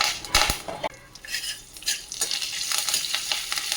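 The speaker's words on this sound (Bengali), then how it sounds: "একটু ভাজা ভাজা হয়ে গেছে" Whole garam masala, cumin, asafoetida and curry leaves crackle in hot oil, a close, busy sizzle broken by metal spoon scrapes and clinks against the pan.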